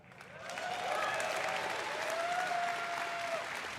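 A large convention audience at BlizzCon 2023 applauds, a broad sustained wash of clapping that swells early and holds, with a faint tonal whistle drifting above the crowd.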